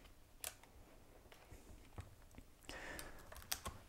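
Lenovo ThinkPad X200 laptop keyboard being wiggled loose during disassembly, giving faint, scattered plastic clicks and rattles close by in a quiet room.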